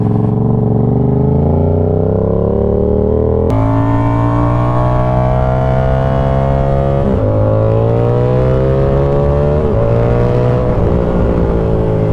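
A Yamaha R7 motorcycle engine roars loudly under riding, climbing steadily in pitch through the gears with brief dips at each shift, close and continuous.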